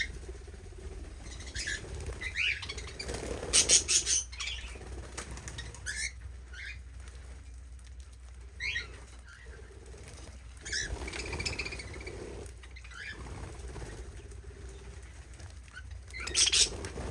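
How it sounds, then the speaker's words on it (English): Budgies and cockatiels chirp in short bursts with soft wing flutters and scuffling, fairly close, with brief louder flurries and no talking. "fresh food and water for the small birds, the little budgies, and cockatiels in here"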